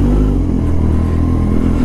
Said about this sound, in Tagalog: napakaingay ng motor, lalo na pag cold start